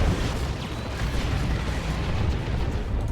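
A Predator tank is destroyed during a 3v3 Dawn of War 2 battle, with a dense continuous roar of explosions and artillery rumbling loudly throughout, without a clear pause.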